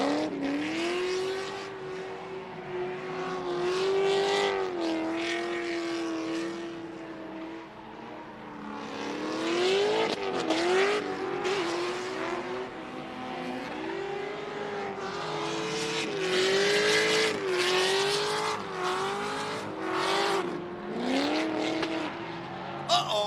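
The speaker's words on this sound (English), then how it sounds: "that little pop in turn one, I believe, was a left rear tire" Drift cars race around a speedway oval at a Colorado drift event, engines revving and wailing up and down in pitch in sustained, loud, close passes with tire noise. No distinct tire pop stands out.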